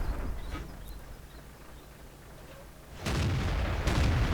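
Tank gun fire in a video game, with two loud broadband blasts aimed at a Super Pershing, the first at about three seconds and a second close behind, over a low rumbling battlefield background.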